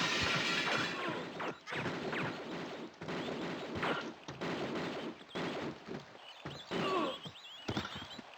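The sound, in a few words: gunfire from armed enemies in Tomb Raider 2 video game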